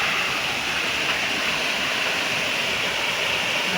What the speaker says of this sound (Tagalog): Ito na po yung falls.